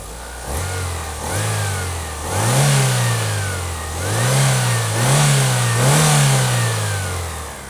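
A car engine running after a fuel pressure adjustment to 4 bar, close up and alone, idling and then revved repeatedly in smooth, rising and falling swells about every second or two.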